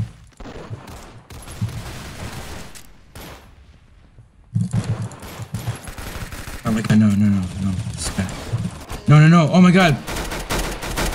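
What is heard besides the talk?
gunfire in the video game Arsenal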